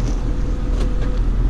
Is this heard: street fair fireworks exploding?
no